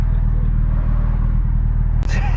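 A Saab car engine at wide open throttle, its misfire now fixed, drones loudly and steadily with a deep, even rumble, broken only by a sharp click near the end.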